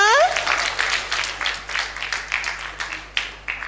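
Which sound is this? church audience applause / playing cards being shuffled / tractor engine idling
church audience applause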